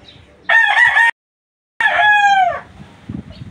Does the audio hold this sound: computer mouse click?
no